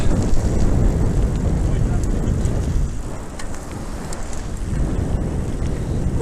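Heavy wind roars and buffets the microphone during a mountain bike ride on the Kunda MTB trail, a loud continuous rumble that eases slightly partway through.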